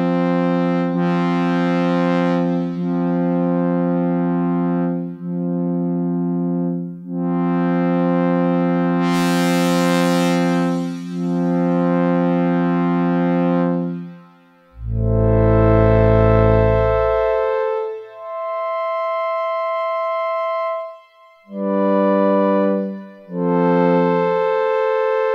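Sustained synthesizer pad chords from a Dave Smith Instruments Rev2 swell and hold with a lush, fully wet reverb tail, shifting between notes, including one deep bass-heavy chord, loud and continuous.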